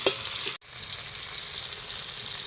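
Tomato, onion and garlic sauté in oil for mung bean stew, giving a loud, steady close-up sizzle with one brief gap and a soft stir, no talk.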